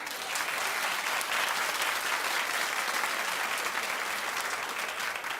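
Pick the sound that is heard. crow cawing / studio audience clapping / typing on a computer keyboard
studio audience clapping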